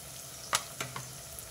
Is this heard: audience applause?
no